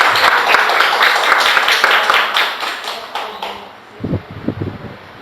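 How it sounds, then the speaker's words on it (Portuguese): A church congregation claps in praise, a fairly loud burst of applause that fades after about four seconds, followed by a voice speaking close by. "Pode dar um aplauso ao Senhor Jesus?"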